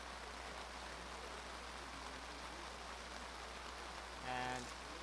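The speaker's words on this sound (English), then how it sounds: "if there was a possibility of the rain getting harder, it just did" Heavy rain pours steadily during a football game, a dense continuous hiss with no let-up, and a brief tonal whistle-like blip cuts through near the end.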